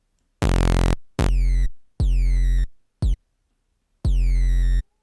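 Synthesizer triangle-wave tones in separate notes of varying length, some held and fading out, clean and up close, with silence between notes.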